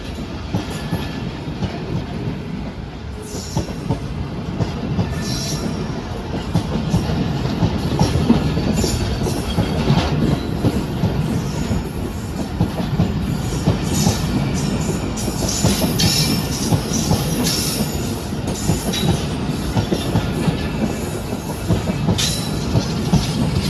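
Awam Express passenger train running at speed while crossing the Pakistan Express, a continuous loud rumble and rattle of wheels on track with clickety-clack rhythm and faint hissing throughout.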